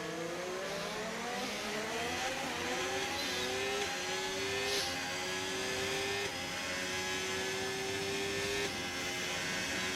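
Formula 1 car engine in the video game F1 25 whines upward through repeated gear shifts, pitch climbing and then holding steady, with a faint whirring background and no talking.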